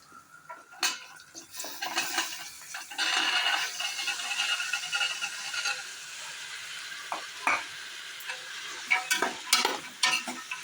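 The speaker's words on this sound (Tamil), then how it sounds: "நல்லா எண்ணெயில் வதங்கட்டுன்னு ஒரு 5 நிமிஷம் நல்லா வதங்க விடுங்க" Vegetables and lentils sautéing in oil after tomatoes, with a spatula repeatedly scraping and clinking against the pan over a continuous sizzle, close and fairly loud with uneven bursts of stirring.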